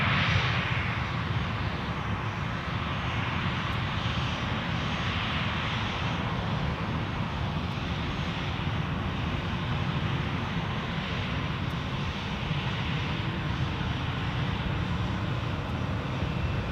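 Airliner engines at Edinburgh Airport, a steady, loud broadband roar that holds constant throughout without a break, with no voices.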